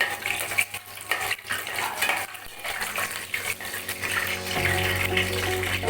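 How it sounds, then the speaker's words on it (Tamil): Spoon stirring cloves and cinnamon with spices for a beef curry in a pot, close scraping and clinking in an uneven rhythm, joined toward the end by a steady sizzle. "கொஞ்சம் கிளறி விடணும்."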